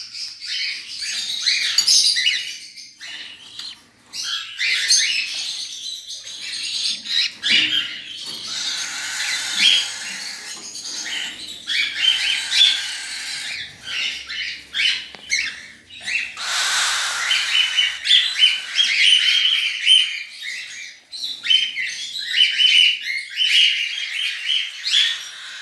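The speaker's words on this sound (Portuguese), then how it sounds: "esses foram os filhotes de calopsitas que eu tirei agora" Cockatiel chicks taken from the nest squawk and chirp in a dense, continuous chorus of high rasping calls, close and fairly loud throughout, with no talking.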